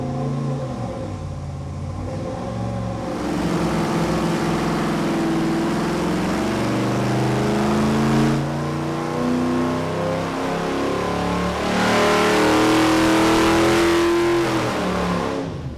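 Car engine on a dyno pulling from 2,500 to 5,000 rpm, a loud sustained roar with pitch climbing steadily through several rising sweeps.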